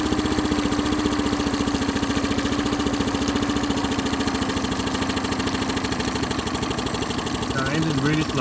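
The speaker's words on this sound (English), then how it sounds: "The engine is really slow, like to almost stalling." A Honda BF15 outboard motor, its carburetor idle set very low, chugs in slow, even, close-up pulses as it runs on the edge of stalling, with a brief change in tone just before the end.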